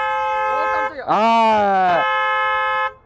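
An eighth-generation Hyundai Sonata's emergency alarm blares a steady, loud, multi-tone horn for about three seconds. A startled voice briefly cries out over it midway.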